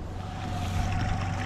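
A Mercury 75 hp outboard idles on a Bass Tracker Pro Team 175 boat on calm water, a low steady rumble with wind noise across the microphone.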